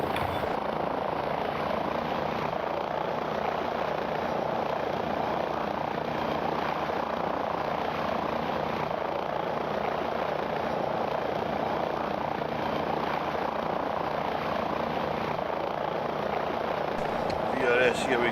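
A simulated helicopter rotor drones steadily and continuously at a constant loudness in a flight simulator as collective is lowered, with a person talking over the engine noise.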